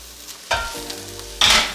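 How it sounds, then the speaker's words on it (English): Food seasoned with cracked black pepper and salt is stirred in a sizzling pan, two brief scraping strokes over a soft frying hiss, close and fairly quiet. "And some cracked black pepper, as well as a little bit of salt. I'm just gonna stir this all together."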